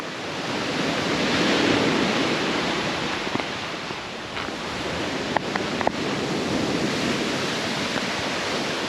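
Ocean surf at a beach in Southern Leyte makes a broad, continuous wash that swells and eases, mixed with wind noise, plus a few faint clicks and no talking.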